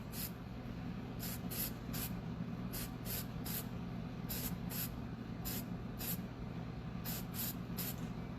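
Short hissing bursts of spray paint coat a pen-turning tube as it is rotated, about a dozen quick spritzes in irregular rhythm over a steady low background hum.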